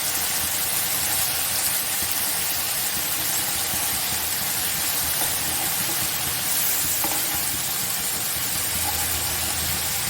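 Prawns grill on a hot tawa over a high flame, coated in a yogurt crust, giving a steady, close sizzle that hisses continuously with no talk.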